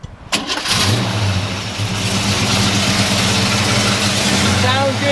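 A 1955 Chevrolet Bel Air two-door hardtop fitted with a Flowmaster exhaust cranks briefly, then catches and settles into a loud, steady rumbling idle right up close.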